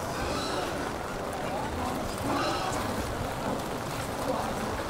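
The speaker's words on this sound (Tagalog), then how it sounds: "Lumakas ang ulan." Heavy rain pouring down on a surface at an outdoor event, a dense, steady broadband hiss that swells slightly in intensity, with people talking faintly underneath.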